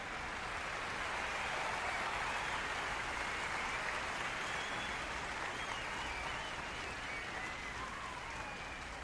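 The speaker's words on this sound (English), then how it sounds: "I think we should give them a round of applause." Steady, dense crowd applause fills an arena at an NBA 2K retirement ceremony, a continuous hiss of many hands clapping at even loudness for several seconds with no voices above it.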